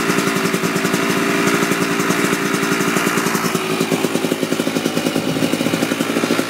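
A Kawasaki KDX dirt bike engine idles loud and close, a fast even two-stroke putter that runs steadily throughout with no voices.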